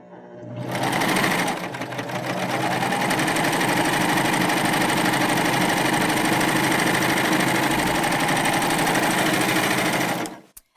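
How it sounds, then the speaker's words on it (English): Baby Lock Euphoria cover stitch machine stitching a narrow one-inch hem on lightweight fabric, a fast steady mechanical whir running close and loud for about nine seconds before stopping. "I'm going to take my piece of fabric and I'm going to give myself another little 1 inch hem or so, and I'm going to stitch it"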